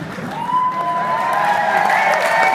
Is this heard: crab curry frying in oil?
no